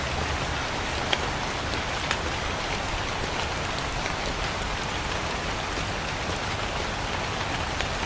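Steady rain pours down in the Night Security horror video game, a dense continuous hiss of drops on surfaces lasting throughout with no voices.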